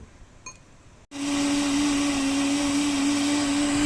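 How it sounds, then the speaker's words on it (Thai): A loud, steady motorized whir of a 1000 ml CAMEL soy milk maker blending kicks in after a brief quiet pause, running continuously with a strong low hum. "เครื่องจะเริ่มปั่นเสียงดังกว่าเดิม นั่นแสดงว่าเขาเริ่ม ปั่นละเอียดขึ้น"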